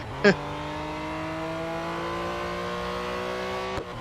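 A car in the mobile racing game Real Racing 3 holds a steady, droning engine note, with a brief sharp squeal near the start and a short blip at the end.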